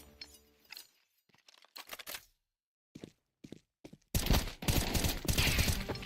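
Gunfire in a competitive shooter game match: scattered faint clicks and short sharp reports early on, then a loud sustained burst of shooting taking over the final two seconds.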